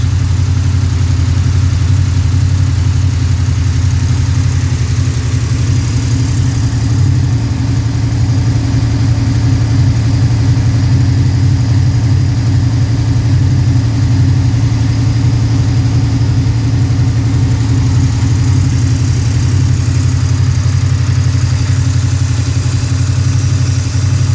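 A Pontiac 428 V8 fitted with triple two-barrel carburetors runs steadily and loud at close range, a deep continuous rumble holding an even idle throughout with no talk.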